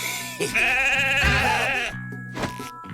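A goat gives a loud, drawn-out bleat close by, a wavering cry that lasts over a second, followed by a shorter call and some scuffling in a cartoon farm scene.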